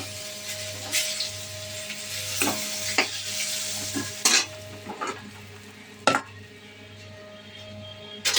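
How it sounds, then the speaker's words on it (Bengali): Fish fries in a pan with a soft continuous sizzle, punctuated by sharp scraping and clinking of a utensil stirring against the metal every second or so, close and fairly quiet. "এই যে বন্ধুরা, হয়ে গেছে আমার মাছ ভাজা।"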